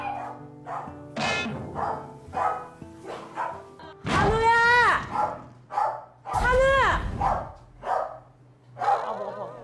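A rescued dog barks repeatedly at a shelter housing around thirty abandoned dogs, with sharp loud barks standing out amid ongoing talk and quieter yips in between.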